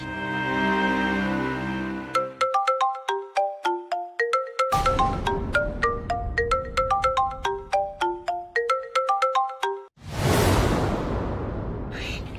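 A phone rings during a call with a bright melodic ringtone, rapid repeated chime notes over a sustained tone, loud and close, cut by a short whoosh near the end.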